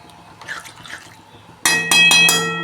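Water is poured into a pan of soybean curry: quiet clinks and handling at first, then a sudden loud gush and splash that carries on in a few surges, very close.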